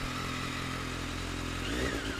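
A BMW K1200S motorcycle engine runs close by, a steady, dense idle hum whose pitch shifts slightly near the end, with no voices.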